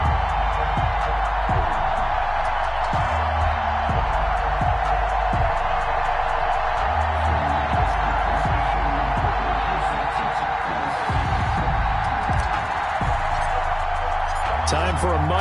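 Steady roar of a sold-out stadium crowd at an NFL video game football match, Bills against the New York Jets, holding loud throughout with swells of cheering and an announcer talking over it.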